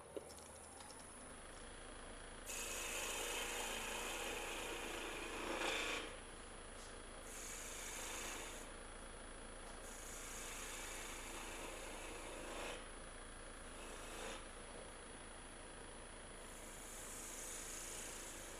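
Sandpaper rubbing over a small wooden snowman carving, a steady dry rasping that runs nearly the whole stretch in repeated strokes, close and fairly loud, with no talking.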